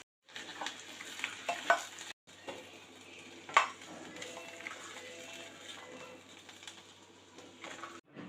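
Fried potatoes lifted out of hot oil in a kadhai for dhaba-style dum aloo, a steady soft sizzle with spoon scrapes and clinks, quiet and close, with no talk.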